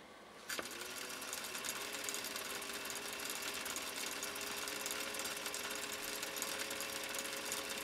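A vintage sewing machine starts up and runs steadily with a fast, even mechanical whir and light metallic ticking from the raceway, fairly quiet and close, with no talking.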